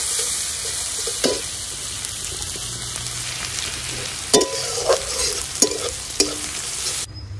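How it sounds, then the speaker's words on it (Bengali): Chopped ginger and green chili being stirred and sautéed in a pan for chire polao, a steady loud sizzle of oil with several sharp spoon scrapes and knocks against the pan, close by, no voices. "সব কিছু সুন্দরভাবে একসাথে নাড়িয়ে একটু কষিয়ে নেব।"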